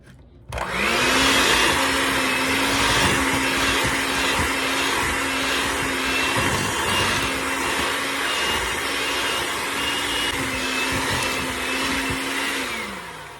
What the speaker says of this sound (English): We got to beat this up and get it creamy together